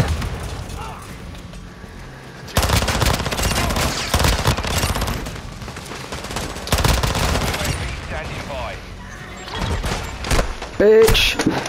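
Rapid automatic gunfire and shots in the multiplayer shooter Call of Duty: Modern Warfare II, loud bursts of fire repeating throughout with brief lulls and game effects, with a voice talking.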